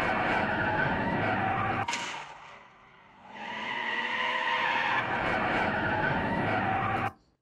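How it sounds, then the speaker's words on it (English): A car drives with engine roar and screeching tire skids, loud and close, briefly dipping in the middle before surging again and cutting off abruptly at the end. "It noticed it was a car and it had that kind of car sound effect."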